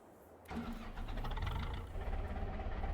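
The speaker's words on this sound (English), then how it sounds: "Oh, this tractor actually sounds pretty cool." A low, rumbling tractor engine in Farming Simulator 22 starts up abruptly and keeps running steadily, a heavy machine motor churning close by with no voices.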